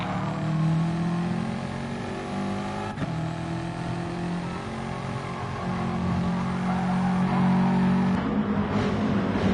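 Race car engine in Gran Turismo during an online race, revving steadily and shifting up early into sixth gear: a sustained droning engine note with pitch steps at gear changes, heard up close and continuous.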